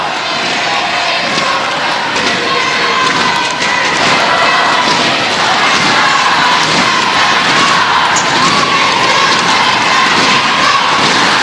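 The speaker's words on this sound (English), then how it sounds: "the crowd is going wild at the moment at the Juara Stadium, largely for Malaysia" A large crowd at the Juara Stadium roars and cheers continuously through a Malaysia versus Singapore netball final at the SEA Games, a dense, loud wall of voices with scattered shouts and no letup.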